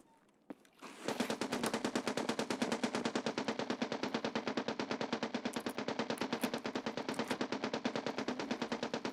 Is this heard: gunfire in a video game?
yes